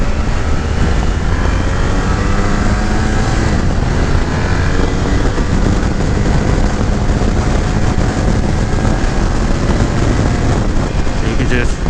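A 2018 BMW F 800 GS motorcycle on the move, a steady loud roar of engine and rushing wind filling the whole stretch without letup.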